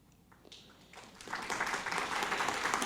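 An audience at a county council meeting starts clapping sparsely, then builds into steady, moderately loud applause from a room of people.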